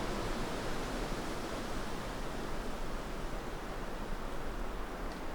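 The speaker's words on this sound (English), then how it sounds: "you can already hear the wind blowing through the trees" Wind rushes through the trees of the Old Wood of Drum near Aberdeen as a continuous, even, broad roar that stays steady and fairly soft throughout, with no voices.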